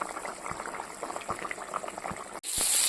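Fish curry boils in a pot with a steady bubbling simmer and occasional soft pops, then a sudden loud hiss breaks in near the end.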